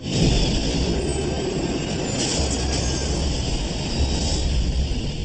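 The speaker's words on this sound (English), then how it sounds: "A Boeing MD-87 cuts through the morning fog." A Boeing MD-87 jet airliner flies through morning fog, its engines a loud, steady roaring whine with a deep rumble that swells slightly toward the end, no speech.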